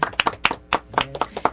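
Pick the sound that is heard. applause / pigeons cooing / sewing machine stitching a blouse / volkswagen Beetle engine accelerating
applause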